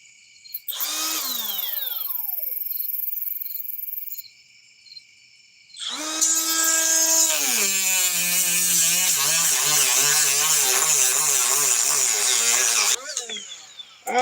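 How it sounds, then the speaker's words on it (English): Cobalt cordless reciprocating saw running on a small 2 amp-hour battery, a brief whining burst, a pause, then a long loud cutting run with rising and falling motor pitch before stopping, close up with no talk. "Then we'll give the edge to the Cobalt reciprocating saw"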